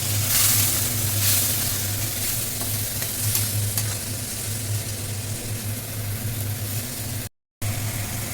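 Tomato paste with ginger and garlic paste frying in hot oil for chole, a continuous close sizzle with stirring scrapes and a low background hum, broken briefly by a short gap near the end.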